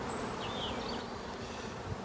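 Honeybees buzz steadily around an opened beehive during queen rearing and super stacking, a dense continuous drone with passing individual bees whining closer at moments.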